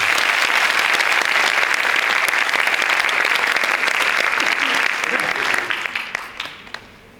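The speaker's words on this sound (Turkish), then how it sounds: "Kocaman bir alkış lütfen." An audience at a poetry reading gives a young poet a big round of applause, loud and sustained, with voices mixed in, before it tapers off into scattered claps at the end.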